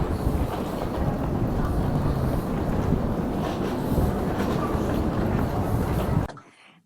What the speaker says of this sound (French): Et voilà le TGV chinois.